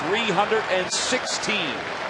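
A sold-out baseball crowd of about 45,000 at a Phillies home game rising to its feet and applauding, a broad wash of clapping and cheering mixed with an announcer's voice.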